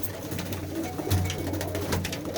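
Purebred pigeons cooing at close range, soft throaty calls over a steady low hum, with no talk.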